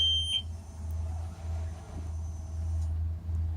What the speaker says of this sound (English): The pump is on, beep